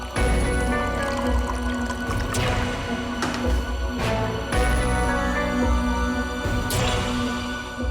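Water pours into a glass in a home, a continuous splashing fill with a few brief pauses and bursts, close and fairly quiet.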